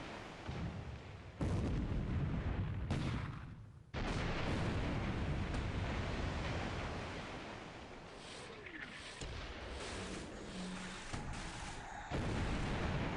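An 8-inch naval shell strikes the ship Achilles in a Pacific war strategy game, a heavy rumbling artillery barrage with repeated loud booms and sustained roar across the whole stretch.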